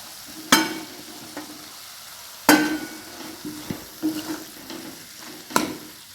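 Roasted radish gets stirred into spinach in a pan, with several sharp scrapes and clatters of a spoon against the pan over a soft, steady sizzle, nearby and without talk.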